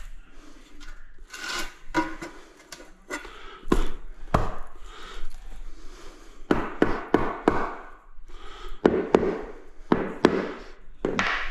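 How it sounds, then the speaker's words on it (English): Plastic tile leveling clips being knocked in while 600x600mm floor tiles are laid, a run of sharp close taps and knocks in irregular bursts, with scraping between them and no talk. "I'll quickly bang some in."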